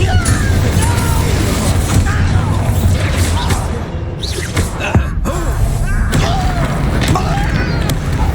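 Incendio fire spell cast in the Hogwarts Legacy video game, loud whooshing bursts and booming impacts amid busy combat noise, with a character's voice speaking over the action.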